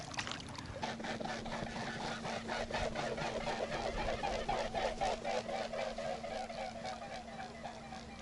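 A small motor boat with its engine running chases three white swans across open water, with a steady low engine hum under a quick rhythmic flapping and splashing that fades toward the end.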